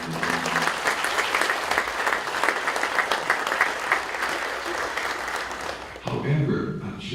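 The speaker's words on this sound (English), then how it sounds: "So let's thank them and give them a big round of applause." A crowd at the Maui County State of the County Address gives sustained, even applause for several seconds, then it cuts off and a voice begins speaking.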